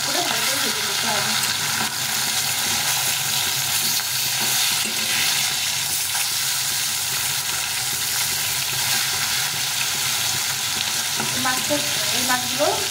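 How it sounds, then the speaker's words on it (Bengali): Pieces of fish fry in hot oil until browned, a dense, continuous sizzle that stays loud and close throughout, with faint stirring noises and no clear speech over it. "মাছটাকে ভালো করে ভেজে নিতে হবে লাল লাল করে।"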